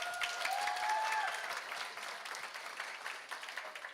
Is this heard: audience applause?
yes